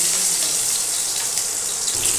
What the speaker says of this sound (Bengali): তেল গরম হয়ে গেছে, পটলগুলো আগে দিয়ে দেবো।